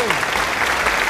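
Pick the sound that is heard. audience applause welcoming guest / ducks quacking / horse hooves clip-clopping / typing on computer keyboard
audience applause welcoming guest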